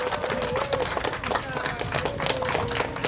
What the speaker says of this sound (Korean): 민경욱 전 의원에게 큰 박수 부탁드립니다